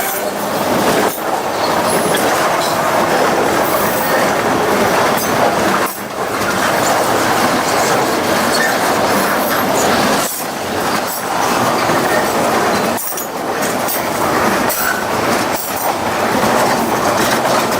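A freight train carrying piggyback semi-trailers rolls past close by, a loud continuous rumble with rhythmic clickety-clack of wheels over rail joints and periodic brief dips between cars, with faint wheel squeal.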